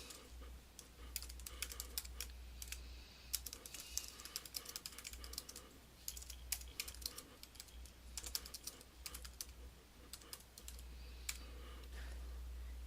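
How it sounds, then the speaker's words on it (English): Notes being typed on a computer keyboard: steady, rapid key clicks with irregular rhythm and short pauses, close and clear, with no talking. "this is where you're going to type your"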